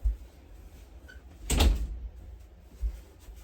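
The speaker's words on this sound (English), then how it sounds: "I'm going to close my door" A single door being shut inside a home, a short soft thud with a brief broadband burst in quiet room tone, followed a moment later by a smaller knock.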